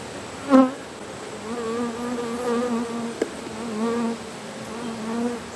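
Honey bees swarming over an opened hive box, a steady close buzzing drone with wavering pitch that holds throughout, broken by a brief louder bump near the start.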